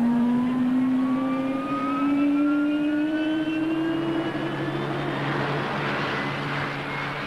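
Jet engines spooling up on the deck of HMS Ark Royal during start-up of Buccaneer S2 and F-4 Phantom II aircraft in 1975: a rising turbine whine with climbing tones over a steady roar, continuous and loud throughout.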